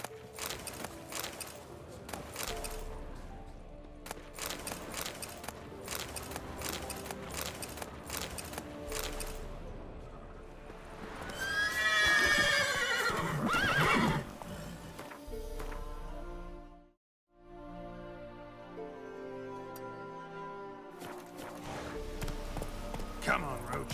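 Roach, a horse in the video game The Witcher 3, trots and gallops, giving a run of rhythmic clip-clop hoofbeats that rise to a louder burst midway, briefly cut out, then resume.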